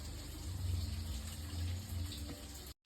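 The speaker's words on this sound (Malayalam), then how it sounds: "ഇതിലേക്ക് ആവശ്യത്തിനുള്ള വെള്ളം ഒഴിച്ചു കൊടുക്കാം." Water poured into a sauce for Gobi Manchurian gravy, a short, steady gushing splash that stops abruptly.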